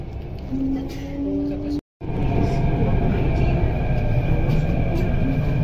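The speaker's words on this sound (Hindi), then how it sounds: "भाई पहुंच चुकी है हमारी मेट्रो दिल्ली के इंडिया गेट के प्लेटफॉर्म नंबर एक पर" A Delhi Metro train stands at platform one of the India Gate station, giving off a steady loud rumble and hum with faint tonal whines. There is a brief dropout partway through, and people talk over the train noise.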